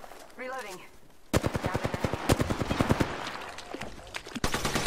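Bursts of automatic gunfire in an Apex Legends match, loud and rapid with dense rattling volleys, a short pause and then renewed firing, alongside brief game effects.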